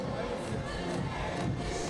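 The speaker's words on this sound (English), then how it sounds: "Packed crowd here in Munich" A packed crowd at the IFSC bouldering World Cup finals in Munich, 2013, makes a loud, continuous roar of cheering and murmuring voices in an indoor arena.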